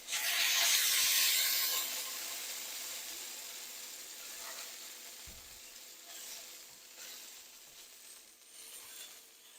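English muffins toasting on a hot pan beside cooking sausage sizzle loudly at first, then settle into a softer steady hiss with occasional faint clicks and scrapes.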